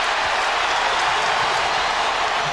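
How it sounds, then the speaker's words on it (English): A basketball arena crowd erupts in loud, dense applause and cheering after a blocked shot in a Jazz at Lakers playoff game, a steady roar that holds throughout. "And the crowd gets fired up over that"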